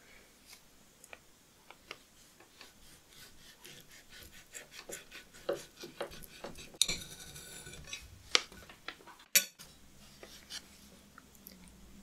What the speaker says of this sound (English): What I'd like to do first is to cut one of these up in half.